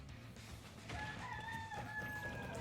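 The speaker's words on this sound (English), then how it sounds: "Even the chickens are happy." A chicken crows in a video game match, a single drawn-out call rising over a faint, low background with no talk.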